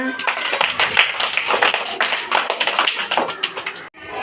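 Children in a Marathi classroom number game clap together in a burst of several seconds of quick, overlapping hand claps, close and fairly loud, ending abruptly.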